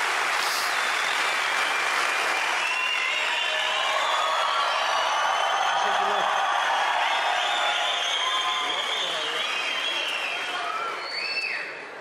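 Sustained audience applause with some cheering and whoops fills a hypnosis stage show on a Turkish talent contest, steady and loud throughout before tapering slightly at the end.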